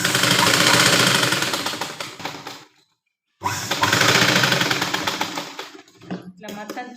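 A sewing machine stitching lehenga lining gives two loud, fast, rattling bursts up close, split by a second of silence, and then some lighter handling noises and a brief voice follow.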